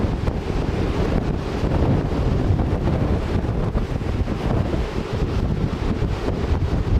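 Strong wind roars and buffets steadily against the microphone on a cruise ship deck in Alaska, a constant heavy rush with no pauses and no voices.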